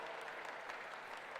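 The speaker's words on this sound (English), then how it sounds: "A round of applause to all of you." Audience applause at a school science and maths quiz championship contest in Greater Accra: a brief, faint, steady patter of many hands clapping at a distance.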